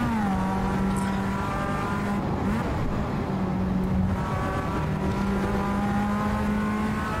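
A Mazda MX-5 roars in the Assetto Corsa racing game, its engine droning at a steady held pitch with brief dips and rises as it slides, loud and alone.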